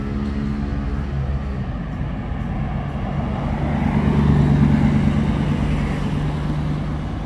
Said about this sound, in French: On termine en beauté avec la Chiron qui vient de passer juste devant moi